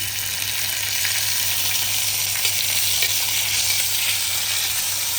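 Spice paste hitting hot oil with frying garlic gives a steady, close, broadband sizzle that holds evenly throughout with no voices, over a low constant hum.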